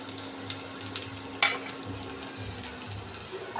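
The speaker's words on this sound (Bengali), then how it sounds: "এখন একটু ভালোভাবে আর কি ভেজে নেব" Beetroot for bharta frying gently in a pan, a soft low sizzle with faint stirring scrapes and a brief clink, quiet and steady.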